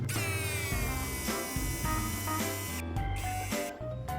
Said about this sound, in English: use the drill bit and it screws it in place.